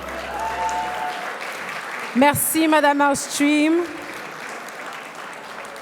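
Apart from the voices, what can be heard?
audience applause for award winners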